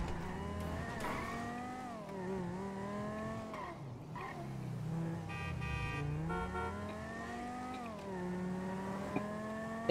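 A vehicle holding a long wheelie in GTA 5 Online produces a continuous engine drone whose pitch rises and falls as it revs, steady and close throughout.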